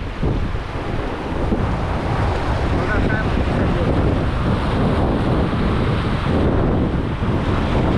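Strong, steady wind buffets the microphone on a rocky seashore during cast-net fishing, with surf churning underneath throughout, and a brief spoken remark partway through.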